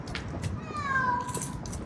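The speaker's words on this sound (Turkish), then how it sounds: "Kardeş gel burada kedi var çıkaralım." A cat trapped inside a school building gives a drawn-out meow, close and fairly clear over a faint background rustle.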